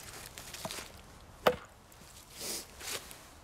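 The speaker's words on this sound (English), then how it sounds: "you guys just saw me go ahead and chop through that cherry over there" A Silky Nata chopper bites into cherry wood with one sharp, close impact, surrounded by a few softer knocks and rustles in a quiet outdoor setting.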